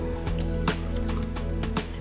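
Water pours into a roasting pan of apricot chicken being prepared for Rosh Hashanah, a close, steady splash and trickle with a few drips over a soft background tone.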